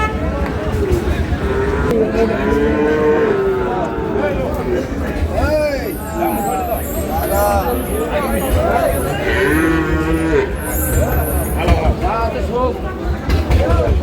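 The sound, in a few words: Sahiwal bull calf lowing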